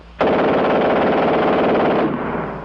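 A German machine gun fires one dense, very rapid burst lasting about two seconds, loud and close, with the shots blurring into a continuous ripping roar before cutting off abruptly and leaving a short echoing tail.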